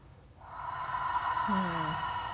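Open-mouthed yoga exhale from Ashtanga breathing practice, a steady breathy hiss as if fogging a mirror, rising after a brief quiet start and holding for about two seconds, close and alone.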